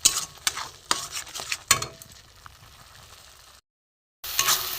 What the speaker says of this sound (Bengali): নেড়ে নেড়ে আর একটু কমাতে হবে, শুকনো করে একদম